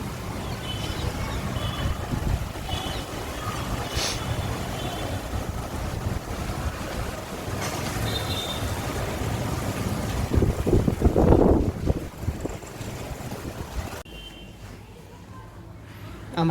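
An outdoor breeze gusts against the microphone after the sun has come out, a steady rushing buffet that swells louder near the end before easing off, with a person talking over it.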